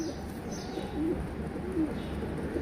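A rescued pigeon, once found in the trash and now kept in a coop, gives a few soft low coos at a close distance against a quiet background hum.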